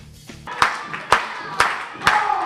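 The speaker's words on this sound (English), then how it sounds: "Stop clapping." Four sharp hand claps ring out at an even pace at a pro wrestling show. Each loud slap stands out clearly over a quiet room murmur.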